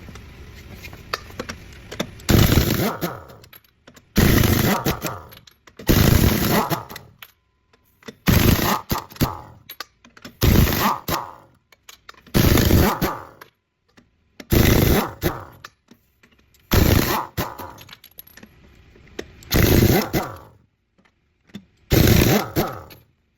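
An air impact wrench spins lug nuts off a wheel with aluminum rims, firing about ten loud, harsh rattling bursts of one to two seconds each, separated by short quiet gaps, with no talking.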